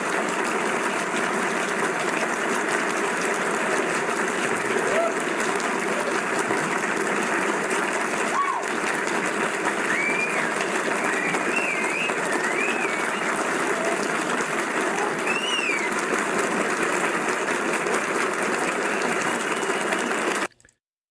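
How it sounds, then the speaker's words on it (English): Audience applause, a dense, steady wash of clapping that holds evenly for about twenty seconds before cutting off abruptly, with a few faint whistle-like chirps above it. "That's a lot of damn applause."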